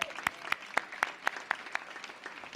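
Applause at an outdoor ribbon-cutting ceremony for a modernized high school: a modest crowd claps with distinct, regular sharp claps standing out, fairly faint and sparse, thinning toward the end.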